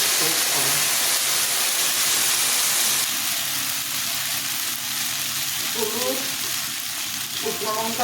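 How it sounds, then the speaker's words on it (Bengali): Green chillies, nigella seeds and mustard seeds sizzle in hot oil as a tempering for an okra, potato and tomato dish, a loud continuous frying hiss with occasional crackles and stirring, no talk. "কাঁচা লঙ্কা ফোড়নে দিলাম কালো জিরা দিলাম সর্ষেটা দিয়ে দিলাম আদা লঙ্কা আর সর্ষে"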